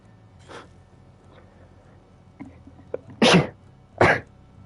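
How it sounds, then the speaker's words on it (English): A person sneezes twice in quick succession, loud and close, right after a faint earlier snort or sniff during a quiet moment of a video game session. "Tried to mute my mic before I sneezed, but couldn't help it."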